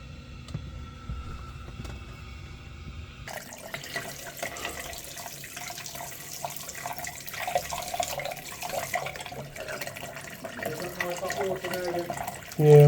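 Hot water runs steadily from a tap supplied by an Ideal combi boiler, a continuous close splashing hiss that fills the clip after a brief quieter start, with a louder burst at the very end.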